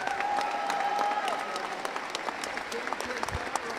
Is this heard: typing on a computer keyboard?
no